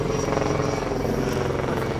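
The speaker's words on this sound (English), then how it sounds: "Helicopter." A helicopter flies overhead, its rotor chopping loud and close with a steady, continuous roar throughout.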